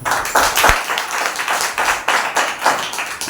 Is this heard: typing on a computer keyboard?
no